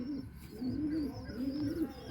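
A fantail pigeon coos softly from close by, two or three low, rolling, warbled phrases in a row over faint background room noise.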